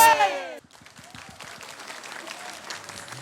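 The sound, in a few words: audience applause at a village quiz show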